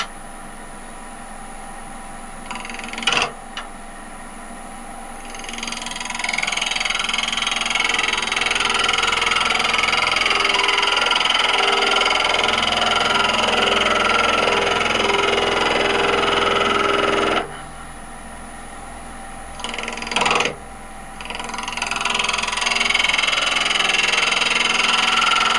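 A wood lathe turns a lidded box while a skew chisel cuts, giving a steady loud whirring drone that runs for long stretches, with brief pauses and a couple of knocks between passes.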